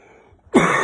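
A man gives a single harsh cough near the end after a short near-silent pause, close and loud, the burst carrying on briefly.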